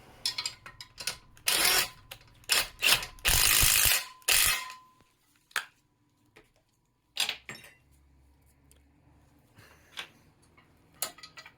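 A nut is tightened onto a Full Tilt Chuck Rack base post with a ratcheting tool, giving clusters of rapid close clicking in bursts, then quieter sparse ticks with pauses between.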